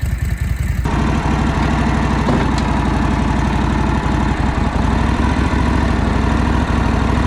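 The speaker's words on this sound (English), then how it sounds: "Much better. Nice low, chill idle." A 1949 Harley-Davidson WL flathead barn-find engine idles low and steady, a loud, close, lumpy rhythmic thump that runs throughout.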